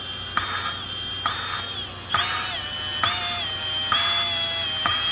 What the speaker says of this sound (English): I've got the drill on slow